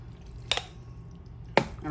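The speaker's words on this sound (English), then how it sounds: "we're gonna pour half of our mixture in" Thick casserole mixture for a soul food dinner poured into a baking pan, giving two brief, soft wet splats about a second apart over a low background hum.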